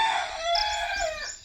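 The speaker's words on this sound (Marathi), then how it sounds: "तिकडं कोंबड्या आहेत" Chickens cluck and a rooster crows on a rural farm near fruit trees, the fowl calls sounding close and fairly loud, with a sustained crow running through most of the moment.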